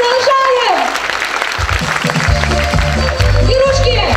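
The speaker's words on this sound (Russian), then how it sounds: "Аплодисменты бурные!" A concert audience breaks into rapid applause at a Russian folk music show, the clapping building to a loud patter while a host talks over it and music plays underneath.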